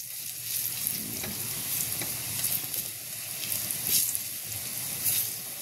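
Broccoli and garlic sauté in oil as they brown, giving a continuous close crackling sizzle with occasional louder pops and stirring scrapes, with no voices.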